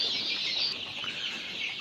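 Chickens cluck steadily inside a coop alongside Latifsex chicks, a dense, continuous flock chatter close by with no voices over it.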